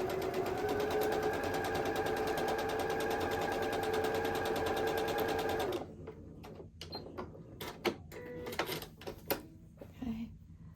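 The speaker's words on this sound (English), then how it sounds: "And we're going to sew it down." A sewing machine runs steadily for about six seconds, stitching a quilt block, with a loud, continuous, close mechanical whir. It then stops and gives way to scattered clicks, fabric handling and light handling noises.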